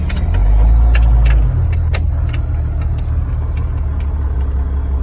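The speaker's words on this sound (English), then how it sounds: "Suppose I gotta get my tractor unstuck." A farm tractor stuck in mud, its engine revving hard as a loud, steady low rumble that surges for the first second and a half and then holds at high power with no voices.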